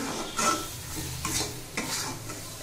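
Korma spice masala being stirred in a pan, with three brief scraping strokes over a soft steady sizzle, close and moderately quiet.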